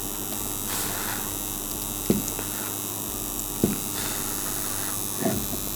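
A homemade welding machine built from a reused transformer hums steadily during a test, with a constant mains-like drone and a few faint clicks and crackles over nearly six seconds, close, with no talking.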